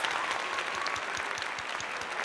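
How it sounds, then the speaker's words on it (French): Brief burst of crowd applause, thick and continuous, with many hands clapping at once at a steady loudness from start to finish. "On applaudit."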